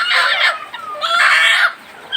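Broody hen clucking close by during chick hatching, two loud clucking bursts with a short pause between.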